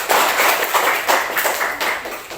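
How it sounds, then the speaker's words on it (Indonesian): Schoolchildren in a classroom clap together for a group's presentation, a loud, close, slightly uneven burst of hands with several rhythmic surges, no talking over it. "Kasih tepuk tangan anak-anak."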